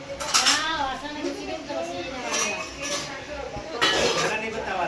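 Metal pots and utensils clatter and clink in a home kitchen while papad fries, with chatter and voices over the busy clanking throughout.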